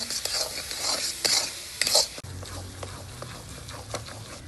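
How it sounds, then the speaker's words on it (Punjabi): Grated carrots roasting in ghee for carrot barfi, a close sizzle broken by scraping stirs of a spoon, then a quieter steady fry. "ਗਾਜਰਾਂ ਭੁੱਜ ਗਈਆਂ ਚਮਚਾ ਘਿਓ ਦਾ ਪਾ ਕੇ ਫੇਰ ਭੁੰਨਾਂਗੇ ਇਹਨਾਂ"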